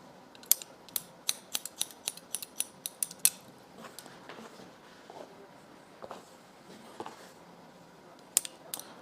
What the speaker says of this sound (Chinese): 可以用这样外夹剪去修剪